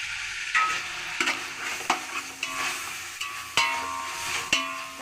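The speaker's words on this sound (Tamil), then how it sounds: "நல்லா தக்காளி நல்லா வதங்கட்டும்." Tomatoes sauté in a pan with mint and coriander, a steady close sizzle broken by repeated scraping stirs of a utensil against the pan, with no talk.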